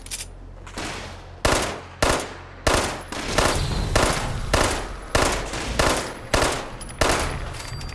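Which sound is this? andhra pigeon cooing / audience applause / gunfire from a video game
gunfire from a video game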